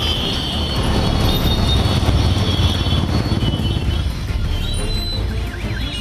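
Passenger trains at a busy Chennai railway station before Deepavali, a steady loud rumble of rolling rail cars with broad mechanical noise and a faint high squeal, continuous throughout with no speech.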